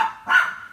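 A small, territorial dog named Chica gives two sharp, high yapping barks close by, the second one longer and louder.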